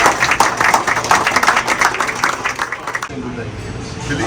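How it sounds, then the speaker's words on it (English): Applause and clapping from a crowd honoring the chefs and galley staff aboard a Carnival cruise ship in Alaska, dense and steady for about three seconds before thinning out, with voices mixed in. "I think it's the chefs and the Galley management that really deserve an applause. So let's give them a round."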